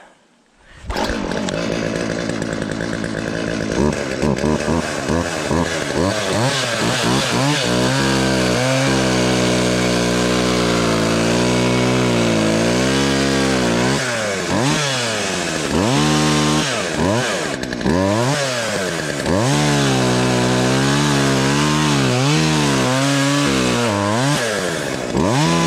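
A cheap throwaway chainsaw starts up and runs loud and close, its engine revving up and down repeatedly as it makes test cuts through wood, with sustained high-pitched whine and shifting pitch for about twenty-five seconds, no talking.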